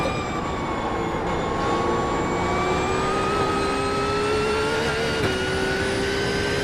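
A Ford Mustang race car engine holds a high, steady drone that climbs slowly in pitch, with a short wobble near the end, loud and constant with no voices.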